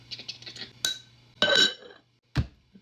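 A new glass bowl clinks while being handled in a kitchen during sourdough bread making. A few sharp, close clinks and knocks are separated by short quiet gaps.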